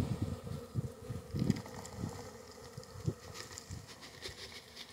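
An overwintered hive of honey bees hums steadily, with low buzzing swells and some soft rustling nearby, as the bees are lightly smoked.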